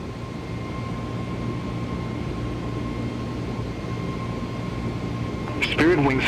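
An Airbus A320neo airliner takes off in Microsoft Flight Simulator, its steady engine roar and whine droning evenly throughout, with a voice speaking over it near the end.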